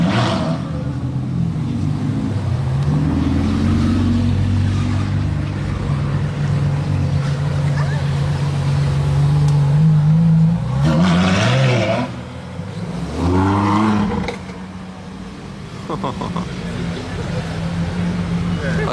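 A Ferrari LaFerrari Aperta's engine hums steadily with a couple of rising rev surges near the end, heard up close with some talk over it.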